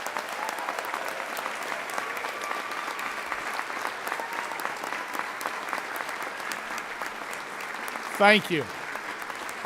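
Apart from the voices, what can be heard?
applause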